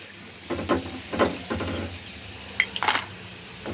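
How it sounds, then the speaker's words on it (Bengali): Taro chips are lifted and stirred in hot oil over a medium flame, soft sizzling under several distinct scraping and clinking strokes of a utensil against the pan, close and moderately quiet. "তুলে নেওয়ার পরে এগুলো আমরা সব আবার 1-2 মিনিটের জন্য এই মিডিয়াম ফ্লেমে তেলের মধ্যে দেব।"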